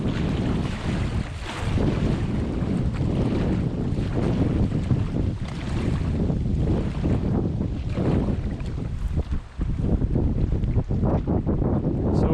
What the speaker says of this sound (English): We're just paddling underneath the Allanwater Bridge,